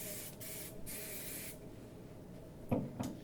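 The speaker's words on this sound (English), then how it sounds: "So we're gonna spray the bun all over." Several short hissing bursts of hairspray from an aerosol can onto a hair bun, a couple of quick sprays followed by a longer one, close up, then light handling clicks.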